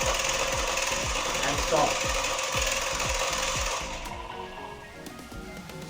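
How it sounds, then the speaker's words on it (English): Air duct cleaning robot with a front cleaning mechanism, its motor spinning in a rapid rhythmic clatter of repeated knocks and a rough whir, loud and close, easing off near the end as a voice briefly speaks. "Now we have to see the motor is rotating"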